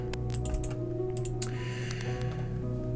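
Someone clicks away on a computer keyboard while playing Kerbal Space Program, with several light, quick key taps over a steady electronic hum from the game.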